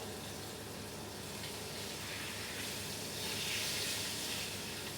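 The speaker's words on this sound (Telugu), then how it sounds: "చేపలు అయితే ఫ్రై చేస్తున్నాను నూనెలో నింపారనుకో." Fish frying in hot oil, a steady broadband hiss and sizzle that swells slightly toward the end, with no voices.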